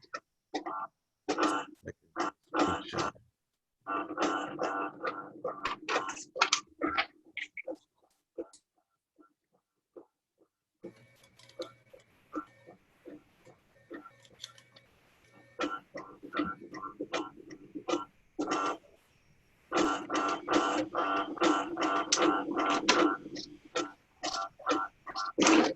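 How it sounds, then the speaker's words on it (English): An office printer running in the background during an online music lesson, giving repeated mechanical bursts and a steady whir, mid-loud, with pauses between passes and no talk over it. "Somebody's printer going?"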